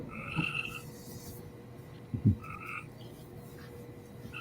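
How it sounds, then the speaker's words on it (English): Frogs croaking, a few loud, buzzy croaks at intervals close by, with a soft background hum and no talk over them. "Here, the frogs are back, Kyle."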